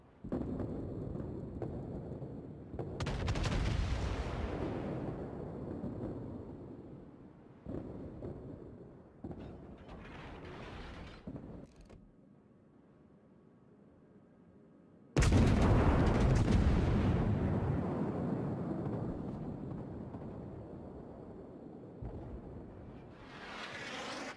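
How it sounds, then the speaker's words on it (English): Ship guns fire in a naval video game in heavy booming bursts that rumble and decay, several salvos separated by short lulls, loud and close, with no voices heard. "I'll just try shooting a continuous stream and see if it's then easier for you to spot me."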